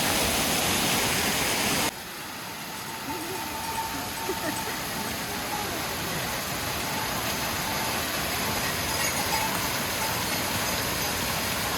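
A small mountain waterfall of cold water on the Kedarnath trek rushes in a steady broadband roar that continues unbroken for the whole stretch.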